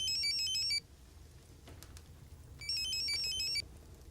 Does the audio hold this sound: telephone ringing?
yes